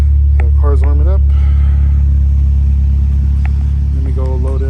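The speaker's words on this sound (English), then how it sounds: "Car's warming up." A Scion xB idles steadily while warming up, a loud low hum running throughout beneath someone talking in short phrases.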